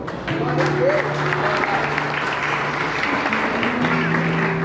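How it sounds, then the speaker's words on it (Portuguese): A church congregation at a family worship service applauds steadily and continuously, a dense wash of clapping that holds at an even level throughout, with a faint sustained musical tone underneath. "Pode aplaudir a Deus com essa palavra?"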